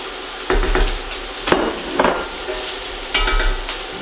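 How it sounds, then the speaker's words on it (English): Cooked ground beef and vegetables sizzle in a pan while a utensil stirs and scrapes through them in a few distinct bursts, with a steady fry hiss between the strokes. "Give that a quick stir."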